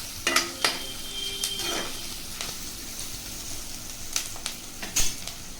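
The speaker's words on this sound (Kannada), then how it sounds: "ಇದು ಗ್ರೀನ್ ಚಿಲ್ಲಿ ಕೂಡ ಹಾಕ್ಕೊಳ್ತಾ ಇದ್ದೀನಿ, ಹಸಿಮೆಣಸಿನ್ಕಾಯಿ ಫ್ರೈ ಆಗಬೇಕಿದೆ ಸ್ವಲ್ಪ" Green chillies fry in a pan for mushroom fried rice, a low soft sizzle broken by scattered clinks of a spoon or spatula against the pan as they are stirred.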